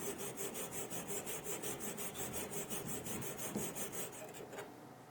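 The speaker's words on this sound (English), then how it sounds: "First I'm going to flatten the face of the chip breaker that meets the blade." A steel chip breaker from a Chinese hand plane is rubbed flat on an abrasive, giving a steady, rhythmic rasping scrub of quick back-and-forth strokes at close range that fades slightly near the end.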